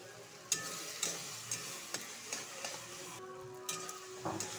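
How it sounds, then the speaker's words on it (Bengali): Taro and four or five green chillies stirred in a frying pan with turmeric, giving a steady low sizzle broken by repeated light clinks and scrapes of a spoon against the pan, close by with no talk. "কচুটা একটু ভালো করে লাড়াচাড়া করব। কাঁচা লঙ্কা 4-5টা ফেলে রেখেছি, এটা ঢেলে দিব।"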